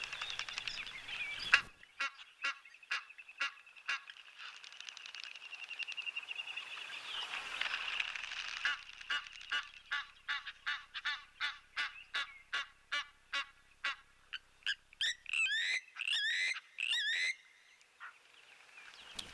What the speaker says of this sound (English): We'll just zoom in on our Egyptian geese for now, because they have come through